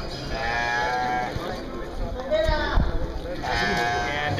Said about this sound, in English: So these guys bring their sheep here.